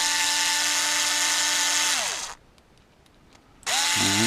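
A small electric screwdriver removes short screws securing a ball bearing on a Mini-Z 4x4, a high whine that winds down, stops for a moment, then starts up again loudly.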